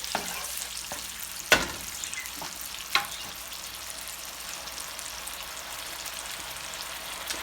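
Homemade salsa of tomatoes, onions, peppers and garlic heating in a pan, a soft continuous sizzle and crackle with two brief sharp clicks, steady and fairly close.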